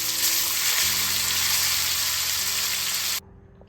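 Fish fry sizzling in oil on a medium flame, a loud, even crackle close to the pan that cuts off abruptly near the end, with no one speaking.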